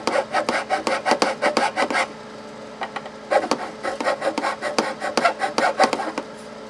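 A file rasps metal on the bridge of a Michael Kelly Pinnacle 4 bass in quick, rhythmic back-and-forth strokes. There is a brief pause, then another close, loud run of scraping.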